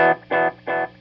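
Three distinct echo repeats from a Belle Epoch Deluxe echo pedal, each a loud, even burst of a guitar tone spaced about a third of a second apart, heard alone with no talking.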